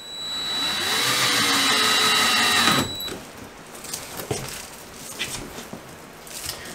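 A power drill bores a hole through a board during a tub and shower surround install in a mobile home, whining steadily for about three seconds before stopping, followed by light clunks and handling noise.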